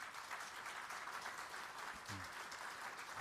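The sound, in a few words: applause from church congregation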